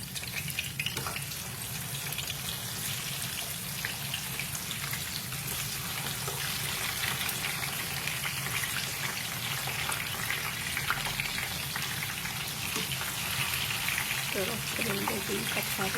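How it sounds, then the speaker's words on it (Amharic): Chicken pieces frying in a pan for chicken mandi, a dense steady sizzle and crackle lasting the whole stretch, close and prominent. "አሁን እዚህ ጋር ዶሮ መጥበስ እንጀምራለን"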